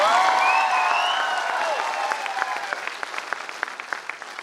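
A large audience in Assam claps at a motivational speech, a dense burst of applause that starts full and gradually thins into scattered, uneven claps; a voice's tonal cries ring out briefly near the start.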